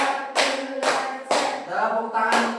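Schoolchildren in a classroom clap their hands in a few separate bursts, about five sharp group claps at uneven intervals, with a voice and tonal sounds ringing between them.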